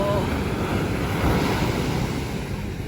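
Ocean waves washing steadily onto a beach where sea turtles nest, a continuous loud surf roar mixed with heavy wind buffeting the microphone.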